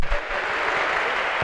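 A crowd at a school teachers' league ceremony applauds the second-placed school team with sustained, dense clapping that holds evenly throughout.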